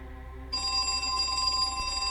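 A telephone bell starts ringing abruptly after a moment of low hum, a bright, sustained metallic ring that continues to the end.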